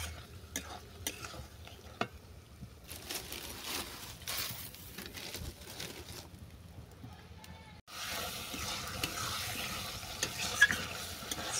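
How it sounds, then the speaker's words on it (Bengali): Chicken coated in mango puree is stirred and fried in a pan, with a steady sizzle under repeated scraping and clinking of a spoon against the pan, loud and close. A brief lull comes before the frying picks up again. "এইভাবে নেড়ে ছেড়ে আমি ভালো করে কষিয়ে নেব।"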